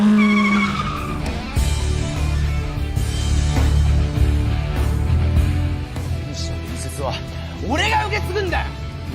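A motorcycle engine roars in a film scene as tires skid and squeal, a loud, continuous engine drone with rising squeals near the end, alongside a dramatic musical score.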